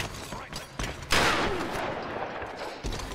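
Enemy gunfire in the Tomb Raider video game, rapid crackling shots over several seconds with a bigger blast near the middle, heavy and close, no talking.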